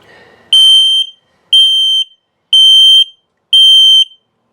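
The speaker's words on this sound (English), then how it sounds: "So this detects carbon monoxide buildup or LP gas leak." A carbon monoxide and LP gas detector inside a 2021 Dutchmen Coleman Lantern 274BH travel trailer sounds during a test, giving four loud, piercing electronic beeps of about half a second each, evenly spaced about a second apart.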